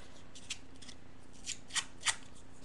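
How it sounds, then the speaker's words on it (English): Sharp scissors run along the edge of a paper photo print, giving a few short, crisp rasping strokes in quick succession, close and fairly quiet against a soft background hiss. "Just running my sharp scissors along the edge."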